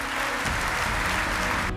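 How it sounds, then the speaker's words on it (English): A large audience applauds steadily at a fire chiefs' association award ceremony, a dense, even wash of clapping that fills the short stretch and cuts off abruptly at the end. "Let's give another round of applause to Chief Hawks for his life-saving."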